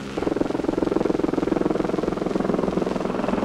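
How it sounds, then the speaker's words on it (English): An Air Force rescue helicopter hovers during a hoist recovery, its rotor beating in a fast, steady rhythmic chop that is loud and close throughout. "the helicopter is picking them up now"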